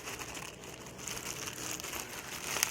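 Plastic clothing package crinkling and tearing as hands open it, a continuous close rustle and crackle in a quiet room.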